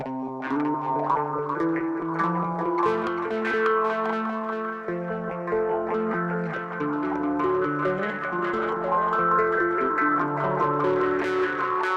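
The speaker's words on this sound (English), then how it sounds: "That's the echo we like." Guitar played through a Raspberry Pi effects pedalboard set to echo, with sustained chords and notes trailing into repeating delays and a chorus-like shimmer, loud and continuous without speech.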